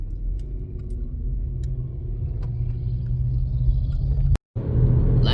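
A car drives along Highway 64 with a steady low road rumble and engine drone from inside the cabin, a few faint ticks, and a brief cut to silence before the rumble resumes.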